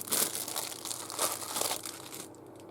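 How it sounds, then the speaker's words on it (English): Sari silk being cut with scissors close up, giving a papery crinkling and snipping texture in short bursts over a couple of seconds, fairly quiet with no talk. "So let me just cut some of that off as well."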